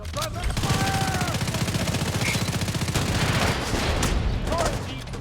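Rapid suppressed automatic gunfire in The Division 2, a steady rattling burst of muffled shots lasting several seconds, loud and close, with brief voice fragments at the start.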